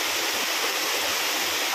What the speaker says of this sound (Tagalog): Ang other side is siya sa Poldo Falls